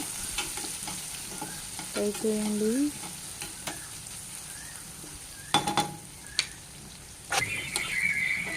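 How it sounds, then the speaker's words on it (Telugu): Green chilies and onion with curry leaves frying in a pan, a continuous sizzle with a few clinks and scrapes of stirring, one brief tonal squeak, and no voices. "2 పచ్చిమిర్చి వేసాక ఆనియన్ వేసాక ఒకసారి ఫ్రై చేయండి."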